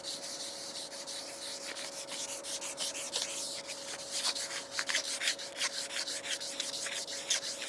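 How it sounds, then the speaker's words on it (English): Hand sanding scrubs rust off a metal grill in steady, close back-and-forth strokes that get more rhythmic and slightly louder as the work goes on. "doing the sanding is simple, right? All we wanna do is go ahead and get this rust off"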